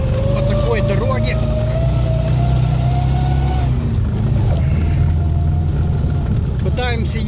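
A ZAZ-965 car labors along a rough uphill road, its engine droning and rumbling steadily close by while people talk over the noise throughout.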